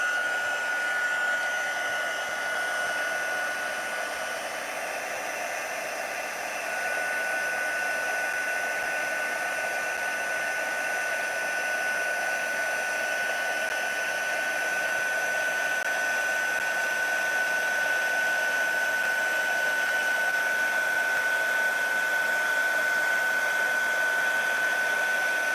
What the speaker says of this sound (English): Let's bring in our embossing tool, our heat tool. And we are going to heat this up.